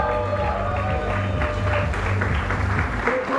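Crowd applauding speakers at a Google Cloud Community Day tech event, steady clapping mixed with a tonal musical bed and some background murmur throughout.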